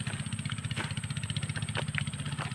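Motorcycle engines drone past at close range with a steady pulsing throb, a continuous mid-pitched roar with no voices over it.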